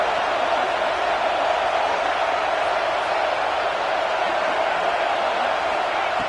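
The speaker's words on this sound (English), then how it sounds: "This crowd is trying to inspire this defense to make a big red zone stop." A college football stadium crowd roaring as the home fans push the defense for a red zone stop, a dense, steady wall of massed voices from far off that holds at an even, loud level throughout with no break.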